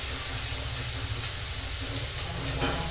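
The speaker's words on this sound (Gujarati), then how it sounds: "મીઠો લીમડો, ટામેટાં, લસણ બરાબર તેલમાં આપી દઈશું." Curry leaves, tomatoes and garlic hit hot oil in a pan, giving a steady, loud hiss and sizzle that holds evenly throughout, with no talking.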